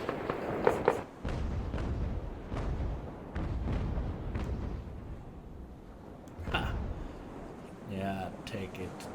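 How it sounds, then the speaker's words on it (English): Sailing warship in Ultimate Admiral: Age of Sail fires a cannon broadside: a run of heavy booms in loose succession, some overlapping, with a lone later blast and a rumbling tail, all under ongoing talk. "Fire broadside!"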